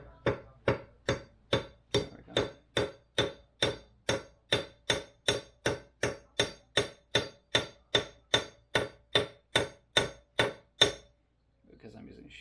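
A sheet metal hammer taps out about twenty-five sharp, evenly spaced metallic strikes, close and fairly loud at a steady rhythm, followed by a brief pause and faint handling noise.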